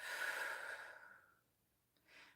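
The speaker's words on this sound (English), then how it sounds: "Breathing in deeply through your nose, feel more light. Exhaling through your mouth, feel more relaxation and peace." A long, slow breath exhaled through the mouth, a pause, then a short soft inhale, close and quiet, as in a calm guided relaxation exercise.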